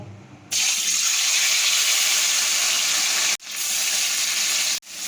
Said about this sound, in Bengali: তেল গরম হয়ে গেছে, পনিরগুলোকে ভেজে নেব।